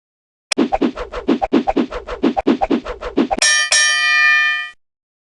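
A bell struck in a rapid series of about fifteen sharp metallic dings, then one final hit left to ring out with a long bright shimmering decay, close and loud.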